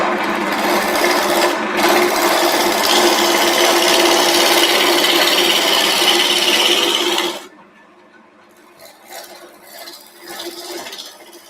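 Wood lathe turning a blank for woodturning, a loud continuous whirring rasp with cutting noise that holds steady for several seconds, then drops off abruptly to faint, uneven scraping.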